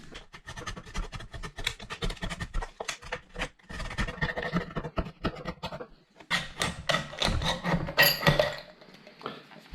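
A knife saws around the top of a BrewDog beer can, giving a run of rapid scraping, rasping strokes up close, with a brief pause before a final burst of cutting.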